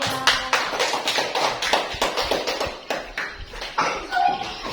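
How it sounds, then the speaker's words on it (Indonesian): Children in a classroom clap for a student group, a quick run of uneven hand claps lasting several seconds with a few young voices mixed in. "Beri tepuk tangan buat kelompok 3."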